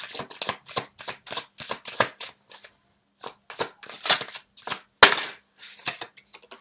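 Tarot cards are shuffled in a string of close, crisp riffling bursts, with a short pause and then a sharper snap as a card is drawn.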